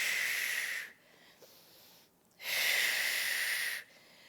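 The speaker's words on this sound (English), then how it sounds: "Inhale, reach forward." Two long, breathy exhales with a quieter inhale between, close to the microphone, during a birth ball prenatal workout, with no talking.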